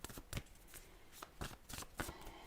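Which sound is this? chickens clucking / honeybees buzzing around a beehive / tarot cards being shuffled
tarot cards being shuffled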